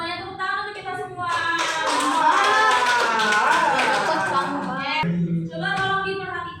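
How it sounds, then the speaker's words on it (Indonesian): A class in an Indonesian language lesson bursts into quick group clapping, loud and close, while voices ring out over it before and after the burst. "Tepuk tangan untuk kita semua"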